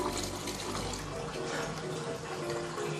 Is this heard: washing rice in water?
yes